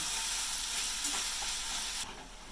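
Onions cooking in a pan on low heat, a close, steady hiss and sizzle that drops in level abruptly near the end, with no voices.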